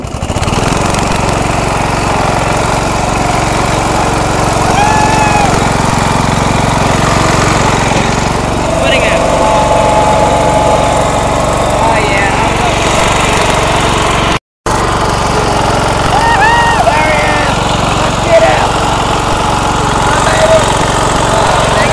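An off-road lawnmower engine drones steadily and loudly throughout while the mower chases a snapping turtle through muddy ground outdoors, with a brief dropout midway and a voice faintly present.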